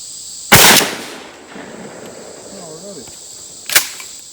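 A Mossberg 835 12 gauge shotgun fires a 3.5-inch buckshot reload at an outdoor range: one loud, sharp blast up close, then a quieter second crack a few seconds later, with faint background between.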